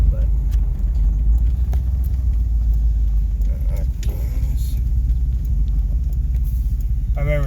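An old Chevrolet Suburban engine idling and running, a loud low rumble that holds steady throughout, with a voice talking over it.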